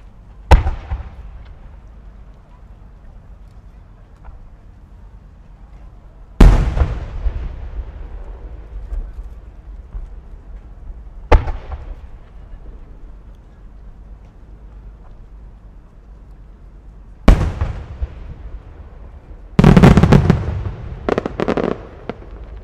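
Fireworks shells from Abe Enka Kogyo at the 2024 Omagari fireworks festival, several loud separate booms spaced seconds apart with echoing tails, then a rapid cluster of bursts near the end.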